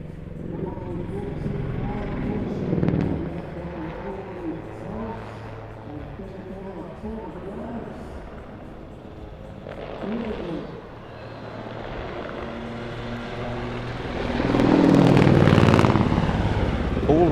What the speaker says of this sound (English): The helicopter diving down, it's going to pitch up into an on-crowd bunt